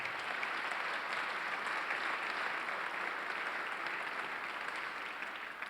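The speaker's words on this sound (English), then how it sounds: "Give her a round of applause for this space." An audience breaks into sustained applause at a university speaker-series event on climate, a dense, steady wash of many hands clapping that carries on loudly and evenly for the whole stretch with no voices rising above it.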